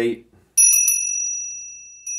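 A meditation bell crowned with a small Ganesh figure rings out after a brief spoken phrase, three quick strikes blending into a long shimmering tone that decays, then another strike near the end.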